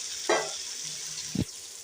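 Spices frying in a pan with ginger and garlic for an aloo gawar phali curry, with two short bursts of sizzling and stirring over a steady low hiss, close by.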